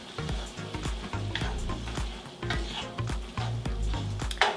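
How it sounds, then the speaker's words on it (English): Skillet of bacon and chicken being deglazed, liquid sizzling while a utensil scrapes and stirs across the pan bottom in irregular clinks and scrapes, close and moderately quiet. "You start adding your liquids, you're going to want to scrape the bits off the bottom of your skillet,"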